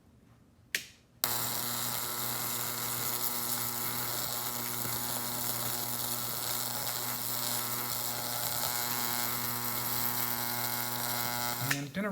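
A 10kV AC electric arc discharging through Epsom salts (magnesium sulfate heptahydrate) under a microscope, starting after a brief crackle and then holding a loud, steady buzzing hum with strong tonal harmonics until the end.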